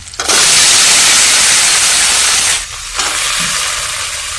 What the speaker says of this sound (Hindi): आलू को भी हमने डाल दिया है और अब आलू को इस तरह से हम चला के कर लेते हैं फ्राई।